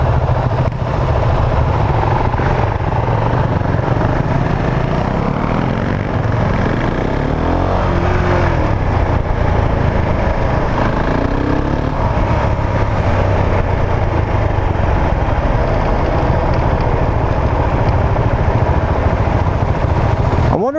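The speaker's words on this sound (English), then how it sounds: "If you put a dirt bike muff on this, it would sound like a dirt bike." A 2019 Husqvarna 701 Vitpilen single-cylinder motorcycle with an aftermarket Akrapovič exhaust runs steadily for about twenty seconds, a loud, continuous low engine drone with no pauses.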